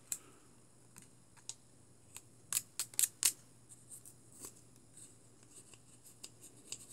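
Sharp blade of an elliptical profiler shaving reed cane, heard as a handful of crisp, close scraping ticks, with a tight cluster of three or four louder strokes in the middle amid quieter intermittent clicks.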